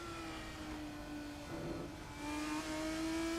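Onboard engine sound of a race car in a sim racing esports series, a steady mid-pitched drone under faint background noise that swells near the end as the throttle opens.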